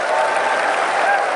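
Dense, vigorous clapping from a large conference audience, loud and continuous across the whole stretch with no letup.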